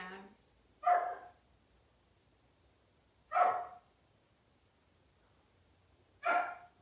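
Dogs bark three times during a home yoga session, each bark a short, clear burst separated by a few seconds of quiet, at moderate distance with no other sound.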